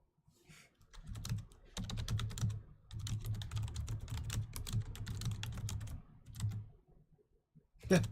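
Fast typing on a computer keyboard, close and steady with dense key clicks in runs broken by short pauses, finishing with a louder tap.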